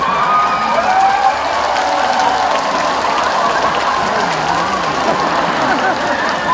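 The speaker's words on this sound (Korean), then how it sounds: "그러면 박수 크게 치세요." Loud, sustained applause mixed with cheering and whoops from a large outdoor festival crowd at a trot concert in Jincheon, filling the whole stretch without a break.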